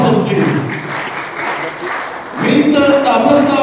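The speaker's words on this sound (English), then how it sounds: "A round of applause, please." Audience applause at a mental health and brain science symposium rises into a steady wash of clapping, swelling louder toward the end, with some voices mixed in.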